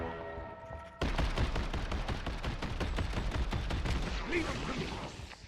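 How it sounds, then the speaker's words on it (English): Rapid automatic shotgun blasts in the video game Deadlock, a dense loud string of shots firing steadily for several seconds after a brief quieter opening, with no talk over it. "It's like an auto shotgun."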